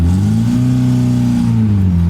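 A homemade limousine built from a Lada Zhiguli drones loudly from inside, its engine pitch rising and falling slightly as it drives, steady with no talking.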